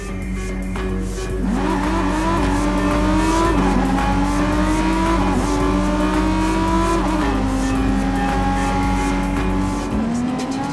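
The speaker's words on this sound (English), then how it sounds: "We can get there by driving across the Bay Bridge together." A car in Watch Dogs 2 drives across the Bay Bridge with a loud, continuous engine drone that climbs in pitch and drops back at each gear change, with no talking.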